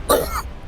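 During a Warhammer 40k tabletop roleplaying session, a voice imitates a short, raspy cough, a single quick throat-clearing burst close to the microphone.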